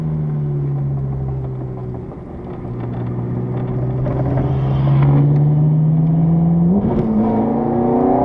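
Race car on the Imola circuit, engine droning loudly and steadily up close, pitch dipping, then climbing as it accelerates, with a brief rise near the end as gears change.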